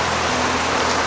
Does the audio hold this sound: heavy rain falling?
yes